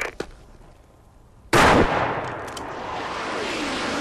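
A sudden loud burst of gunfire erupts as a sound effect in a comedy sketch, a sharp blast that decays into a sustained, rumbling noise, preceded by a faint click.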